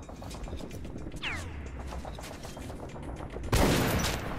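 Gunfire from a weapon in the video game Metro 2033 Redux, a sudden loud burst near the end that follows a long stretch of quieter mechanical in-game sounds.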